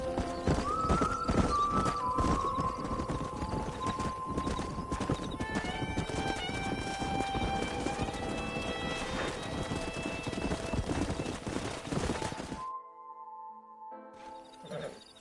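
Rapid clattering hoofbeats from several horses drum continuously with whinnies and neighs over the top, loud and busy, then cut off to a quiet tail, in the video game Red Dead Redemption 2.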